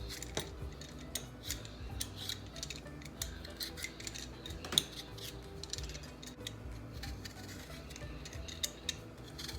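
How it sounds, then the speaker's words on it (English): Potatoes are being peeled in a kitchen, with a series of sharp, close scraping and clicking strokes in an irregular rhythm over a low background clatter of utensils, and no talking. "I'm going to start to peel some of the potatoes"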